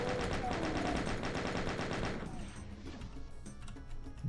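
A chaingun in the Doom II video game fires a steady, rapid rattle for about two seconds and then stops. Echoing blasts and game noise continue faintly afterward.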